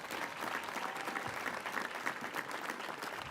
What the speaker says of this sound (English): Please, a round of applause for Ms.